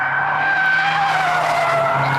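A Vauxhall slides into oversteer on a track, its tyres letting out a loud, sustained squeal that wavers in pitch across a couple of seconds, close and steady.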